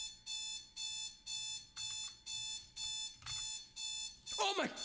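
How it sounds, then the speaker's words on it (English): An alarm clock beeps in a steady repeating pattern, about eight evenly spaced bursts, each loud and sustained, ending in a brief burst of noise as it stops. "Oh, that fucking alarm,"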